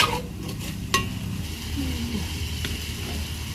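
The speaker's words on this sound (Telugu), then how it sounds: "ఒక్కసారి కలుపుకొని కొద్దిసేపు అయితే మగ్గనిద్దాము." Curry with moong dal stirred and left to cook in a pan, giving a steady low sizzle and frying hiss with a couple of brief utensil scrapes, close and alone.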